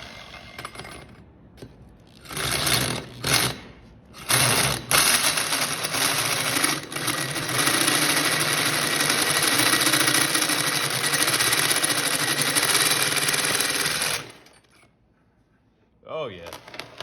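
A saw cuts through a compressed bolt during a cabover truck teardown, with a few short bursts and then a long, loud, continuous grinding run that stops abruptly near the end.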